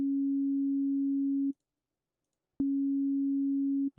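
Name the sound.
pure sine wave from Ableton Operator synthesizer oscillator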